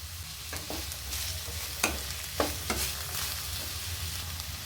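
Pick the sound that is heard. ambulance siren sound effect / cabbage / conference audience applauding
cabbage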